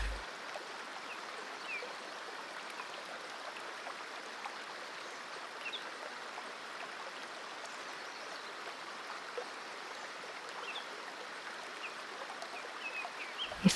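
Shower water running, a steady even hiss of spray that continues unchanged for the whole stretch, close and without talk.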